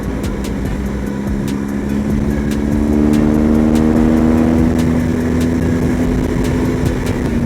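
A BMW R1200 GS motorcycle engine pulls hard while accelerating in sixth gear, a steady, rising drone under continuous wind rush that stays loud from start to finish.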